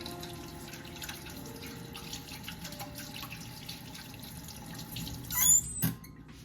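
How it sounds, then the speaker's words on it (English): Hands being washed under a running kitchen tap before making butter bread, a faint steady trickle and drips of water with a brief louder splash near the end. "I'm going to wash my hands."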